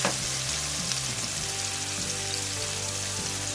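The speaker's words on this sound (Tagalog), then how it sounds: "Sinutuin mo natin yan" Pork sizzles and fries in a hot pan while binagoongan cooks, a steady loud crackling hiss with a faint low hum underneath, continuous and without talk.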